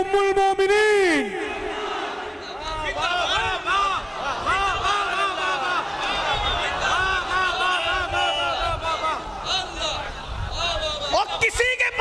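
A crowd at an Urs religious gathering roars back chanted slogans of Takbir, Risalat and Haidari, loud massed voices rising in waves with a leading voice calling out over them, sustained throughout.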